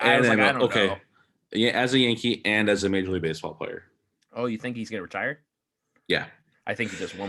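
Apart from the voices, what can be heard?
None of the usual background noises is heard.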